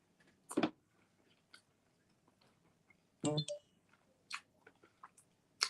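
Someone chews a bite of taco close up, with a few crunchy bites and scattered soft, wet mouth sounds over several seconds; quiet overall.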